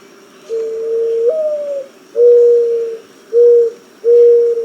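A dove's soft, hollow cooing call, close and clear: a long drawn coo followed by three shorter, evenly spaced coos.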